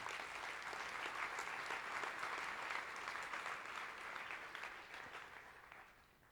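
A church congregation claps for the Lord during a Spanish-language sermon, steady, even applause filling the room for several seconds before thinning slightly at the close, with no voices over it.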